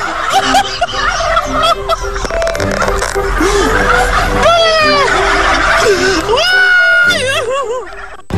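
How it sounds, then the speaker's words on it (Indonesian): Chickens cackle in bursts that sound like laughter, with rising, warbling calls standing out loudly over continuous shouting and chatter from visitors. "ayam-ayam ini pun tertawa tiap kali pengunjung itu berteriak"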